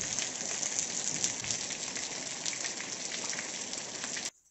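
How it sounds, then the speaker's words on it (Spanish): Rain falls steadily on a construction site where a concrete slab is being laid, a dense close hiss of drops pattering on surfaces that continues evenly before cutting off abruptly near the end, with no talk. "es que está lloviendo"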